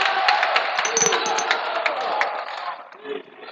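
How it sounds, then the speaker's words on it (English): A high school junior varsity basketball team's bench cheers in a gym, a steady wash of shouting young voices with claps and squeaks, loud and sustained before easing off slightly toward the end. "The Kushner bench is cheering a little."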